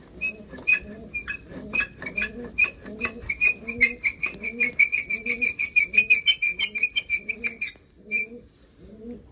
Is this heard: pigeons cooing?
yes